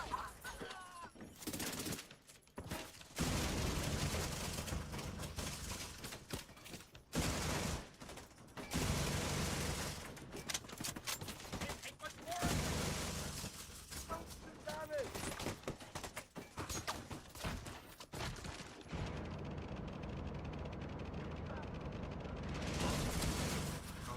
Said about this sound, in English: I love those sticky grenades